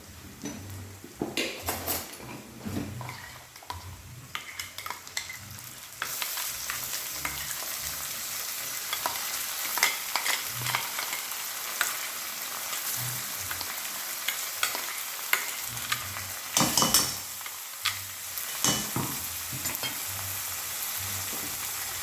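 Onions and spices frying for a chicken curry with potato, a steady close sizzle running throughout with scraping stirs and clinks of a utensil against the pan, louder after the first few seconds, no talking.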